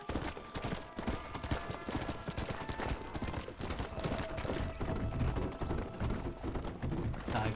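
Steady clip-clop of horse hooves trotting at a brisk, even rhythm in Red Dead Redemption, close and continuous, with faint background tones underneath.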